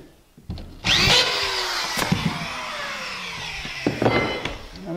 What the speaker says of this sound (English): Just put you a couple of screws in.